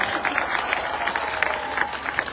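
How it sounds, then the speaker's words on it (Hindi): A large rally crowd in Dausa claps steadily, a dense, noisy patter with periodic swells of applause filling the whole stretch with no clear voice on top. "ताली बजाओ"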